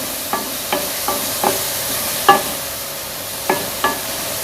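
Green chilies with spices and lemon juice being stirred in a pan, a faint low sizzle under sharp spoon scrapes and clinks about every half second to second.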